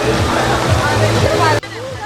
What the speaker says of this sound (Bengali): আর এই পাশটাতে একটা পানির ঝর্ণা রয়েছে